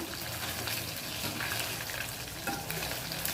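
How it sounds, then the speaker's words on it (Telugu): Idli pieces frying in hot oil in a pan for tava idli, giving a continuous loud, bubbly sizzle up close that fills the whole stretch with no talking. "మనం ఈ ఇడ్లీ పీసెస్ని అయితే ఈ ఆయిల్లోనైతే వేసుకుంటాము"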